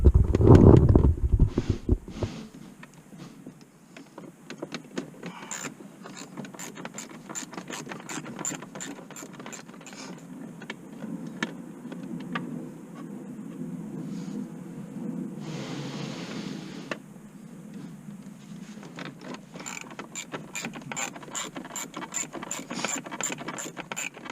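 A T27 Torx bit turns out the steering wheel screws on a C5 Corvette. A run of close ratcheting clicks comes in bursts with short pauses, and the clicking grows denser toward the end.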